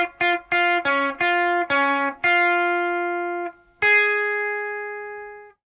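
Electric guitar picks the opening lead phrase of a song: a quick run of clear separate notes, then longer ringing notes with a final sustained tone, played alone with no talking.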